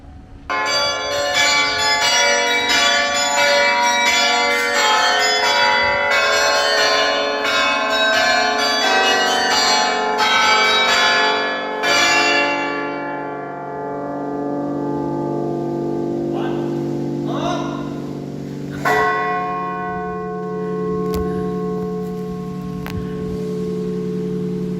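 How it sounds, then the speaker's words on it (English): Church bells ring out loudly from a belfry during practice, overlapping peals clanging continuously at first and then thinning into fewer, spaced strikes with long ringing decays. "made the mistake of going up just as they were practicing with their bells"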